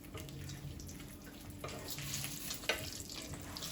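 Dough frying in hot oil, a steady close crackling sizzle with a faint watery hiss running throughout, rising briefly in a few louder bursts and one sharp pop, with no voices.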